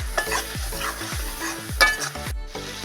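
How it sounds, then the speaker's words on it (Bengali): Turmeric being stirred into spices frying in oil in a pan, a loud, close sizzle with regular scraping strokes of a spatula and occasional clinks against the pan, no one speaking. "আমি দিয়ে দেবো হলুদ, একটু আমি এটা নেড়ে নেবো।"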